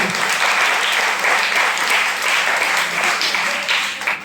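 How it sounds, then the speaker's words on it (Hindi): An audience gives loud, sustained applause for their guru Ashok sir, a thick continuous roar of clapping that holds steady throughout. "तो जो हमारे गुरु हैं अशोक सर, उनके लिए भी जोरदार ताली होना चाहिए"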